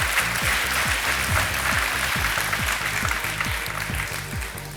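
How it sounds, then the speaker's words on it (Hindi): Studio audience on a televised Hindi quiz show clapping together in a brisk, steady rhythm of sharp claps that stays loud for a few seconds and then tapers slightly, with no speech. "उत्तर आने से पहले ही ताली बज गई।"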